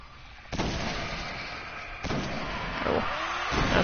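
Explosive-round gunshots from a Firefly weapon in the video game Destiny, with two heavy booming blasts followed by a rumbling, roaring tail, moderately loud and without talk.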